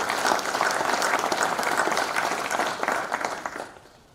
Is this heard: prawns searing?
no